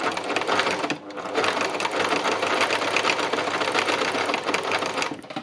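An embellishing machine stitches fabric with a continuous, close, fast mechanical whirr that briefly dips about a second in, then runs steadily to the end.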